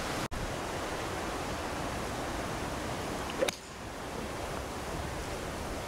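Strong wind blows across a golf course in a steady, broadband rushing roar, with a sharp click near the start and a brief gust or knock about halfway.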